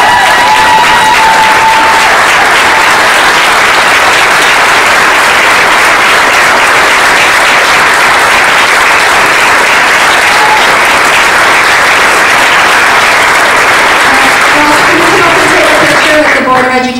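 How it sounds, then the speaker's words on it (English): Loud, sustained applause from a standing audience at a Board of Education meeting honoring the Lady Lightning, a dense wash of clapping running steadily for the whole stretch before tapering at the very end. "I'd like everybody to stand up and give a big round of applause to the Lady Lightning."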